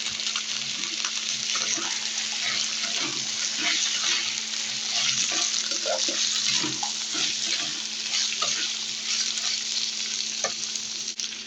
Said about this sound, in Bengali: এই যে আলু একটু ভেজে নেব হালকা